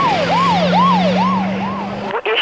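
An ambulance siren wails in a repeating rising-and-falling pattern, loud and near, over a steady engine hum, then cuts off abruptly.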